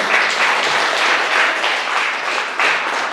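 Church congregation claps together in praise, a brief burst of steady, fairly loud applause filling the room.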